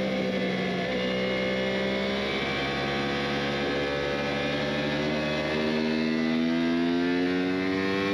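A Yamaha R1 sport bike winds out hard through the gears on the Snetterton circuit, its engine note climbing in steady, rising sweeps at each upshift, loud and continuous with no talk.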